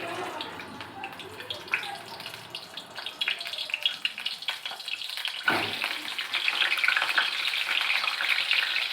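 Potatoes frying in hot oil for a Bengali handi chicken dish, a steady crackling sizzle that grows louder and busier toward the end, with a brief stir or clatter midway.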